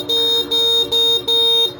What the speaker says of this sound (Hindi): और हॉर्न की आवाज़ काफ़ी ज़्यादा पतली है, लड़कियों वाली हॉर्न है